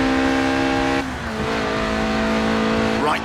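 A Lotus Elise, a 90s mid-engined two-seat roadster, in the video game Forza Horizon 4, its engine holding a loud steady rev before dropping and rising again with a brief tire squeal near the end, no talking.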